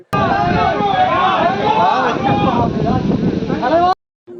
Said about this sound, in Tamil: நடு ஜாமத்தில் கூட தலைவா தலைவான்னு கேரளா நடு வீதியில முழக்கம்